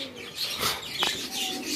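Pigeons in a loft give soft, close coos, with a few faint chirps mixed in over a quiet background.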